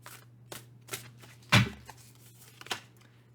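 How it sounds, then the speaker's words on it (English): Tarot cards being shuffled by hand in a quiet room, a series of soft, brisk riffles and taps spaced about half a second apart, with one louder snap in the middle, close and alone. "I'm just going to shuffle cards while you're thinking of that"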